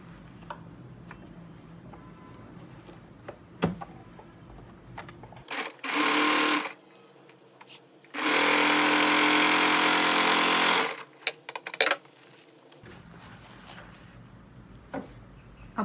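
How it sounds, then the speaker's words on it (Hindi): A sewing machine stitches straight lines on a blouse's boat neck, running in two bursts, a short one and then a longer steady whir of about three seconds, with quiet handling sounds between and around them. "अब हम इन लाइंस को इस तरह से पकड़ के इसमें एक पैर की सिलाई लगा लेंगे"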